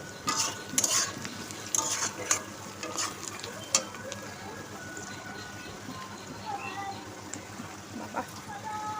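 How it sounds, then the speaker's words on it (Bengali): Onions fry in a pan with a steady soft sizzle, while a utensil stirs and scrapes against the metal in occasional sharp clicks close by. "পেঁয়াজটা আর অল্প ভাজা ভাজা হোক।"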